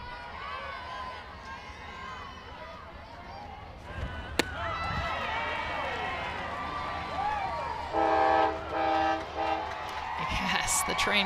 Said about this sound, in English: The train going by in left field.